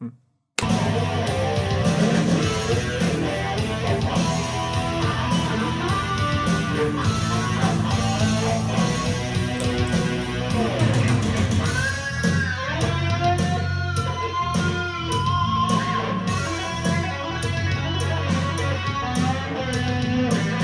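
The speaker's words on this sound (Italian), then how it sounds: "la cosa a cui volevo stare attento era il suono di quell'amplificatore" Electric guitar plays continuously through a small modeling amplifier, busy distorted riffs and chords filling the whole stretch without pause.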